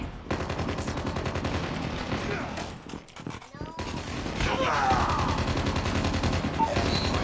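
Rapid automatic gunfire in the video game Call of Duty Mobile, dense bursts of shots almost continuous across the clip, briefly easing midway before resuming loudly, with game voices and a talking player mixed in.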